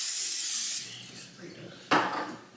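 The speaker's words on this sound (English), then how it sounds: "I'm gonna spray it." A spray can hisses steadily into a crock pot for almost a second, then stops, with faint handling noises and a second short, sharp burst of spray.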